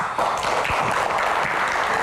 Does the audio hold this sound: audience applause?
yes